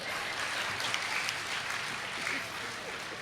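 Sustained audience clapping at a Tamil comedy pattimandram debate, a thick, even patter of many hands that stays at a constant level for the whole stretch.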